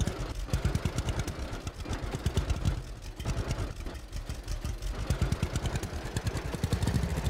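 A tractor engine in Farmers Dynasty chugs steadily while driving, a rhythmic low clattering pulse that stays close and continuous throughout with no talk over it.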